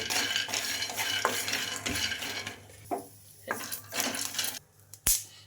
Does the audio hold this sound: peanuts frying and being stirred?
yes